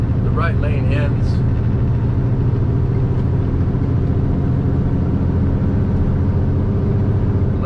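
Heavy truck engine pulling hard as the rig picks up speed on a three-lane highway, a loud steady low drone throughout, with a voice speaking briefly near the start.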